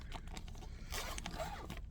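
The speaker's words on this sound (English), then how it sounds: "Alright, where's the zipper? There it is." A zipper on a small pouch being pulled open during an unboxing, heard as a close, quiet, scratchy run of short rasping bursts with no talk.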